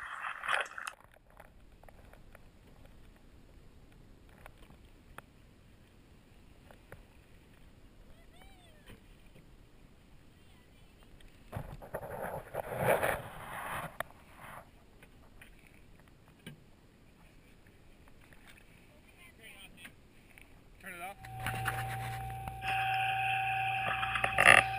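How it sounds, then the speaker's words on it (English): On the deck of a commercial halibut fishing boat, a hydraulic gear hauler driven by a small auxiliary motor gives a steady mechanical drone with surges, growing louder and harsher near the end, with someone talking over it. "The hydraulic ran off a small auxiliary motor, which causes quite a noise on deck"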